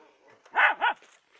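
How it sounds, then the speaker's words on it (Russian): A small dog gives two quick, close barks on an outdoor walk among fallen leaves, with quiet background between them. "Вот, бегает классная собачка."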